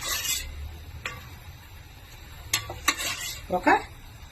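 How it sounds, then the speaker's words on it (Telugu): Oil is ladled into a hot cooking pot for mutton kurma, with close metallic clinks of the ladle against the vessel and a brief soft sizzle toward the end. "ఈ గరిటతో ఒక 3 గరిటెలు ఆయిల్ వేసుకుందాం."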